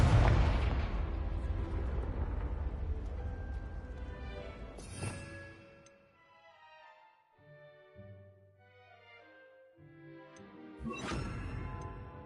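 A Confringo blasting spell in Hogwarts Legacy bursts into a loud, close explosion that rumbles and fades over several seconds, followed by a quieter lull and then a second sharp blast near the end.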